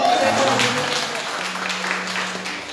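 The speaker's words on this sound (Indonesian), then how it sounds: "Tepuk tangan dong." Congregation applause at a church worship service for seniors, a broad wash of clapping filling the space for a few seconds while a sustained tone hums underneath and some voices are mixed in.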